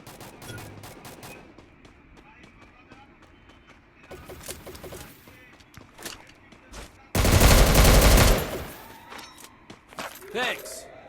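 Rapid automatic gunfire from a new gun in the Free Fire video game, with short bursts early on and then a loud sustained volley in the second half before trailing off.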